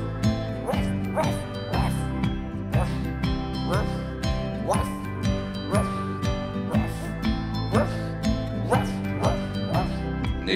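Dog barking sounds woven into a French children's song about a boy's little dog, repeated in a steady rhythm alongside bouncy music and sung vocals throughout.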